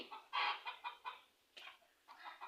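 A hen clucks in a short series of quick, nasal calls, close and fairly quiet, with brief pauses between bursts.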